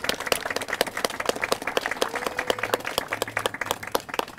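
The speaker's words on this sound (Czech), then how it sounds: "Děkuji a prosím o dobrý aplaus také pro nevěstu Milenu." A wedding crowd at Restaurace Bastion in Prague applauds the bride with dense, brisk hand clapping that carries on steadily for several seconds at close range.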